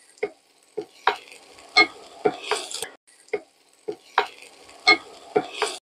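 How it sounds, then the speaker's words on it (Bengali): Chopped garlic, about 8 to 10 cloves, fries in a pan while being stirred until browned, giving close, repeated scraping strokes in a steady rhythm over a light sizzle, with no voices. "রসুনটা একটু লাল লাল করে ভাজতে হবে।"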